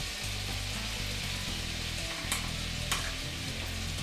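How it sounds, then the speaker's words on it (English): Butter and three tablespoons of flour cook over medium heat as a roux for béchamel, stirred constantly in a pan, giving a soft, steady sizzle with gentle scraping strokes, quiet and close without talk. "Now you stir this constantly, and what this is doing is cooking the flour"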